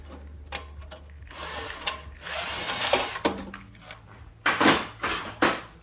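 Screws are driven out of a Rancilio Silvia espresso machine's grouphead with a screwdriver, giving short mechanical whirring bursts and clicks in a quiet room, with several quick separate spurts toward the end.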